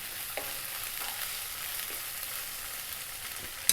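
Garlic ginger paste, an even mix of garlic and ginger, frying in a pan gives a steady, soft hiss of sizzling with a brief scrape at the very end, close by and without talk.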